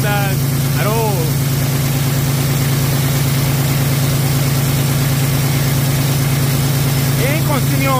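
A PACCAR MX13 truck engine idles during a regen, its steady low rumble continuous and close throughout, with brief voices cutting in near the start and end.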